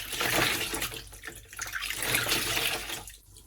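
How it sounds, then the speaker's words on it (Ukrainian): Water runs from a kitchen tap while wool socks are rinsed under it, a fluctuating broadband splash that rises and falls with the handling, loud and close, with no talk. "Я це роблю прямо під краном."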